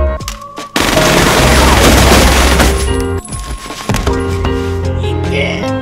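Loud sustained automatic gunfire from a film scene rattles in a dense burst, then gives way to sharper scattered shots and metallic clinks as it trails off.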